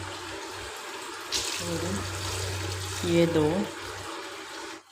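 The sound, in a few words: water poured by glass into pot of paya curry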